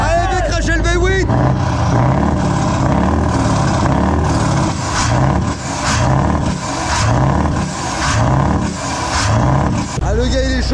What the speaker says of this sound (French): Ah, le gars, il est chaud, il a mis le moteur en route.